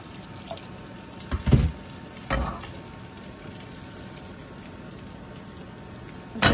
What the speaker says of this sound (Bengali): দিয়ে একটু নাড়াচাড়া করে নিচ্ছি